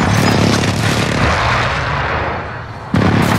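A rolling artillery-style airstrike in the Warzone video game: a loud, sustained barrage of booming blasts that tapers off, then a sharp new burst near the end, with no voices.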